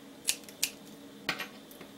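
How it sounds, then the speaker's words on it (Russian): Scissors snip off excess yarn while knitting claw-style mittens, with two crisp close cuts followed by a third double snip, quiet and alone with no talking. "Лишнее обрезаю."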